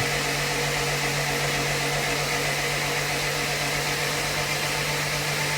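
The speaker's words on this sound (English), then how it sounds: "You can hear the pitch of the engine start changing." A loud, steady mechanical whirring of a turbocharged Honda CRX engine being cranked over before its first start, droning evenly the whole time with a low hum underneath and no voices.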